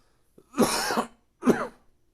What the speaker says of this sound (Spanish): me llegó una tos